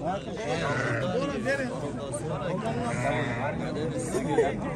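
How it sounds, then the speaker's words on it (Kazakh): Sheep bleat continuously in a crowded livestock market, with many overlapping wavering cries close by and people talking and chattering underneath. "Мына ке, базардың алды қойлары."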